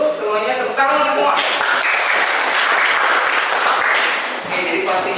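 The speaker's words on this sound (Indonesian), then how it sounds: "tepuk tangan semua." A class of students applauds together, a dense, steady burst of clapping lasting several seconds, loud and near, with a voice briefly speaking at the start and end.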